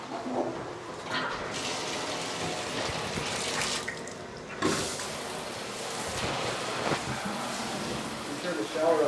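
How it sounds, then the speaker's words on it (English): A shower runs during a home inspection, a steady hiss of spraying water with shifting splashes, a brief dip partway through, and faint talk beneath. "And go ahead and get the shower running as well too."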